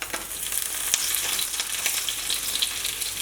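An omelette for two fries loudly in a pan just after being flipped, a dense, even, close sizzle with faint crackles throughout.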